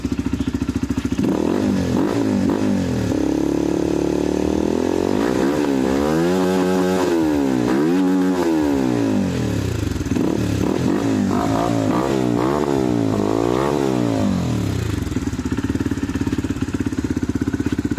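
Honda Flash 150 motorcycle fitted with an aftermarket power pipe exhaust, idling loudly and being revved repeatedly in rising and falling bursts, close up and continuous with no talk.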